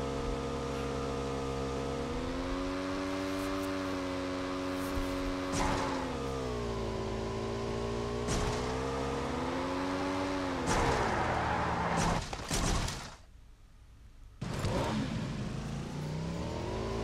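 A vehicle driven fast in PUBG, its engine whining and revving with rising and falling pitch through gear changes, loud and continuous, broken by a few thumps and a brief near-silent gap before it resumes.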